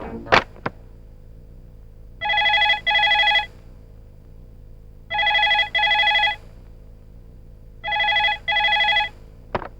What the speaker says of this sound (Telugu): యాదవ్ ఫోన్.